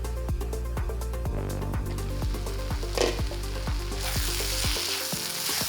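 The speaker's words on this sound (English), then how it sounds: "I will cook everything together for another 10 minutes" Eggplants and tomatoes fry together in a pan, giving a steady close sizzle with regular stirring clicks and scrapes throughout, no talking.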